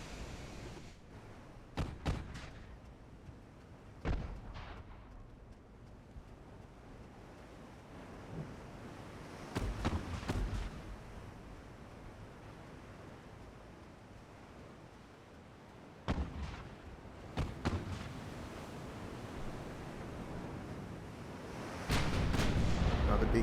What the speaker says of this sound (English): Another big salvo firing off